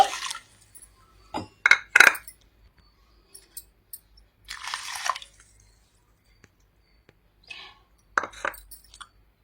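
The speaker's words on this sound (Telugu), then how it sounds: "2 కప్పుల వరకు నీళ్ళు అయితే పోసుకోవాలి" Water poured into a bowl in a home kitchen while making a flattened rice and jaggery sweet, heard as a few short splashy pours and drips with small glassy clinks between quiet pauses, close and alone.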